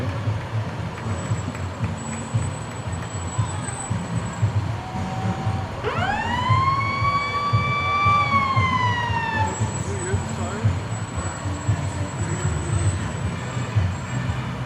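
Fire engines pass in a parade during the Bennington Battle Day weekend: a loud rising-and-falling siren wail swells for a few seconds over steady engine rumble and crowd noise, then fades, with a faint high tone lingering.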